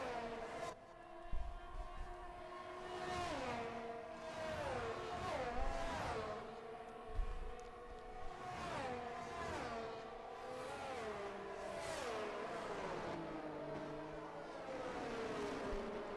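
Racing cars in a sim racing game roll toward the grid at Jeddah, engines rising and falling in pitch as they pass, with repeated whining sweeps over a steady mechanical drone.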